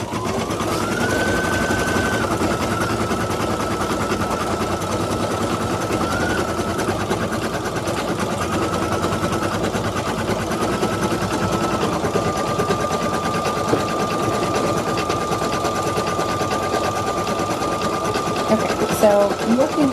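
An embroidery machine stitches a felt mask muzzle with a steady, continuous high-pitched motor whine and rapid needle chatter, running loud and unbroken throughout while a person talks over it.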